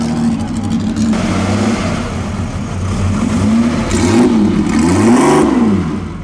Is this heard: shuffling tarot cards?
no